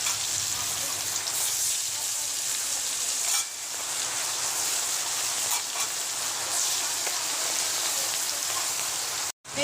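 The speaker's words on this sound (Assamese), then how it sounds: "এইফালে কেৰাহী গৰম কৰিছোঁ আৰু মাছকেইডোখৰ ফ্ৰাই কৰি ল'ম মই ধুনীয়াকৈ" Fish pieces fry in hot oil in a kadai, giving a continuous close sizzle and crackle with brief stirring bursts.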